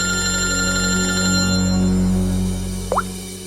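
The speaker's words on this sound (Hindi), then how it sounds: "सर हॉस्पिटल से फोन था" A telephone rings steadily and electronically for a few seconds as a call comes in from a hospital, with a sustained tone over low background hum, then cuts off abruptly with a brief click.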